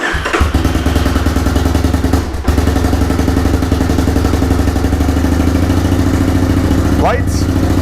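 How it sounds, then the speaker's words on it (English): The starter on a restored 1985 motorcycle cranks in a steady, rapid chugging rhythm, close and loud, with a brief pause partway through and a short voice near the end. "I think that's how the starter sounds."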